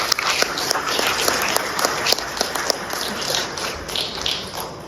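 Audience clapping at a Tamil book launch, just after a poet's speech: a dense, steady patter of many hands with sharper individual claps scattered through, sustained evenly for about five seconds.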